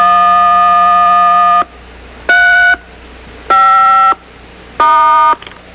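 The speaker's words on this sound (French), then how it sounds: "Une autre séquence de tonalité permet d'indiquer au système la région du Québec désirée." A loud sequence of DTMF tone bursts used for radio repeater access in Quebec: one long steady tone followed by three short evenly spaced beeps, crisp and alone over a faint hiss.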